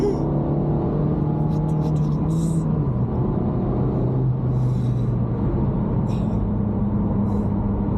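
Honda Civic Type R FK8 being driven hard, a steady loud engine drone heard from inside the cabin with shifting pitch and brief bursts of wind or tire noise over it.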